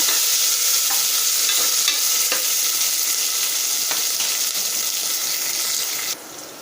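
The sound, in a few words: frying food sizzling in a pan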